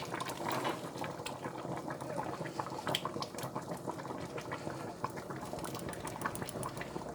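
Okra (gombo) is tipped into a simmering homemade pot for fufu gombo, giving a steady bubbling, gurgling churn with small clicks and splashes throughout, fairly quiet and without speech.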